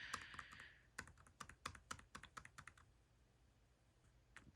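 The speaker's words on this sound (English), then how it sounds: "A lot of arrow clicking." Arrow keys on a computer keyboard clicked in a fast burst of about a dozen crisp, close taps, then quiet with one last tap; a faint hiss opens the clip.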